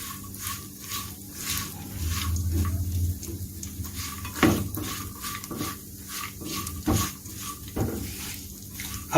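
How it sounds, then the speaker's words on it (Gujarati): Dry fruits roasting in ghee over a low flame: a soft, low sizzle under repeated light clinks and scrapes of a spoon stirring against the pan. "અને આપણે આને ઘીમાં રોસ્ટ કરશું."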